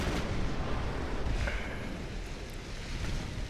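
Main guns of warships firing in the naval game Ultimate Admiral Dreadnoughts: dull, distant booming shots rolling under a constant low roar of battle ambience.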